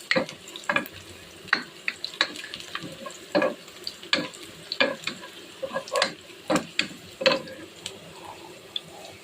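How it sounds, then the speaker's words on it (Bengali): Onions fry in oil with whole spices in a frying pan for pulao, sizzling while a utensil scrapes and stirs in irregular strokes, the clatter rising over a steady frying hiss. "পোলাওয়ার জন্য ফ্রাই প্যানে তেল ও পেঁয়াজ দিয়ে দিয়েছি"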